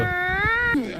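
A cat gives one clear, drawn-out meow that bends upward and then drops at the end, close and distinct over a faint background.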